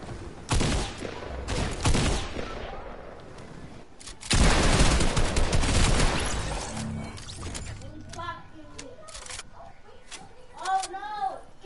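Fortnite battle sounds, bursts of gunfire and a heavy rocket-launcher blast with a long rumbling explosion tail, followed by scattered clicks and chirping effects, with players talking over the action.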